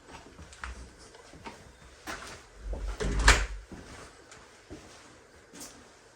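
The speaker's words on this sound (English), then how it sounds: "Let's close that door." A door shuts in a quiet house with one firm thump and a short rattle midway through, amid faint shuffling footsteps and room noise.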